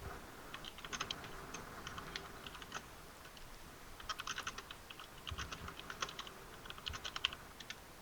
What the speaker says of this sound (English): I can hear the furious typing.